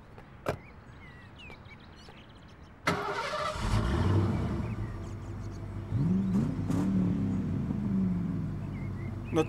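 A car engine starts with a sharp crank, settles into a steady mid-pitched idle, then revs up in a couple of rising pulls, close and loud throughout.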